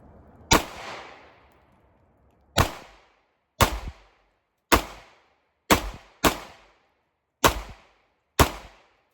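Eight sharp 9mm pistol shots from Hornady XDP reloads fired at a pumpkin outdoors, a loud first crack with a long ringing tail followed by seven more evenly spaced reports, no talking.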